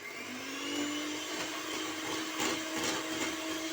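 Electric mixer whipping ganache for a children's layer birthday cake, a steady continuous motor whir with a rising pitch that runs loud and unbroken throughout, with no talking.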